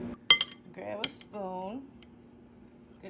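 A metal spoon is grabbed from among dishes while preparing salt potatoes with melted butter, giving a few bright close clinks of cutlery, and a brief voice sound is heard between them.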